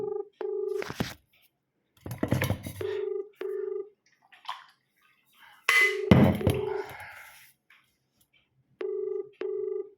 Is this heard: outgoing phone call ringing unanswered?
yes